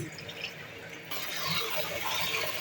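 Lentils are washed and swished by hand in a bowl of water, a close, continuous sloshing and trickling that grows a little fuller partway through.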